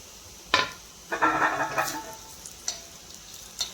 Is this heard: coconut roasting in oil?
yes